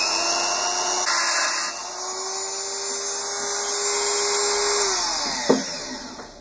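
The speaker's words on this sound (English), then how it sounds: "I'm going to use this Dremel grinder to basically just cut through these axles" Dremel grinder cutting through the cast metal axles of a model Mini Moke, a high steady whine that holds for several seconds, shifts pitch and ends with a short sharp clack as the cut finishes.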